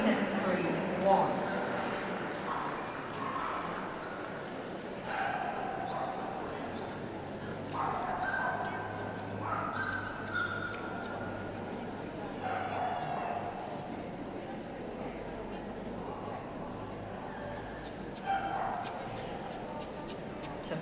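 Yorkshire Terriers barking in the best-of-breed ring at a UK toy dog show, scattered yaps rising over steady crowd murmur while a commentator talks throughout.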